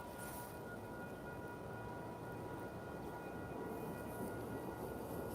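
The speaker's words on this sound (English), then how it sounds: "There's a train going right now." A train passes at a distance, a low steady rumble of rolling cars with a faint horn-like tone, quiet and continuous under a soft outdoor background.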